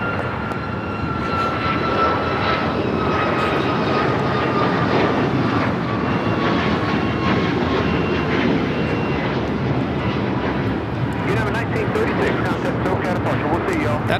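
A United Boeing 737 MAX 8 airliner takes off at LAX, its engines roaring loud and steady throughout with a broad sustained rumble, while a voice talks over the engine noise.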